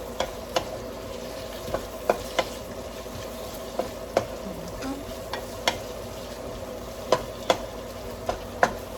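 Onions sautéing in a pan for an upo (bottle gourd) and tofu dish, with a steady light sizzle and frequent sharp spatula taps and scrapes scattered throughout, close and without speech.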